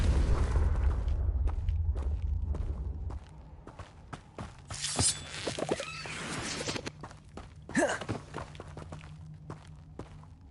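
Confringo fire spell blasts in Hogwarts Legacy, heard as sharp bursting booms amid scattered footsteps and clatter, with a heavy rumble at the start that gives way to several distinct impacts.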